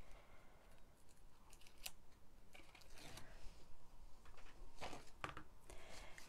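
Packing tape ripped and torn to seal a box, heard as several short, rasping tearing bursts at close range over a low background hum, with no talking.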